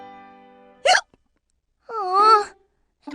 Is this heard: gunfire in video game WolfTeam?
no